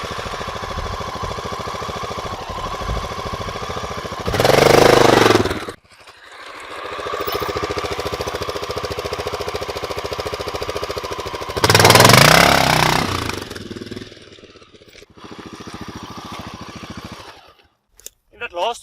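A Honda XR650L motorcycle engine starts, idles and pulls away, its mid-pitched single-cylinder thrum swelling in two louder surges between steadier idling, with someone talking over it in between.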